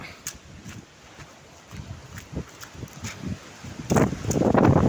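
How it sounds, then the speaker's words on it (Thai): Strong wind from a summer storm buffeting the open area behind a house, a steady rushing roar with gusts that hit the microphone, swelling louder toward the end, with no talk. "ลมแรงจริงครับ"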